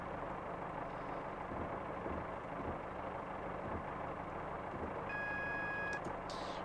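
An AWS warning alarm sounds in a train cab in Train Simulator 2016 on the South Wales Coastal route, a steady high electronic tone lasting about a second over a continuous low engine rumble, followed by a brief hissing burst.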